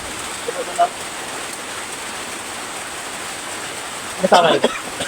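Steady rain falls outdoors as a dense, even hiss throughout, with brief voices breaking in near the start and again near the end.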